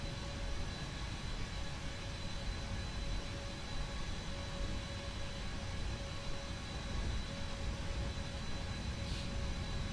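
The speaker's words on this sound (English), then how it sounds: "the engine sounds a bit weird because it's, I think if I'm correct, it's playing 2 clips at once" Boeing 777 jet engines spooling at takeoff thrust in the X-Plane 11 flight simulator, a steady loud broadband roar with a faint tonal whine held throughout, no talking.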